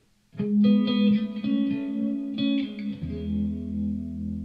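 Clean electric guitar through a Line 6 Helix patch with heavy reverb and delay: plucked notes and chords ring out one after another, trailing echoes and a washy tail, alone without talk.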